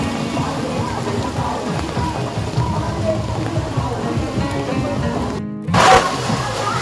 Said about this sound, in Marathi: खूप पाऊस आहे खूपच पाऊस आहे